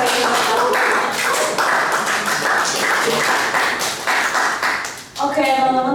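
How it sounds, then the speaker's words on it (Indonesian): Audience at a career-building event clapping in appreciation after a session, a crowded patter of hands under voices, breaking off near the end as a speaker begins talking. "Boleh tepuk tangan sekali lagi yang paling baik."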